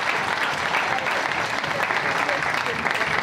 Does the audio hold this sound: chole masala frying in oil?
no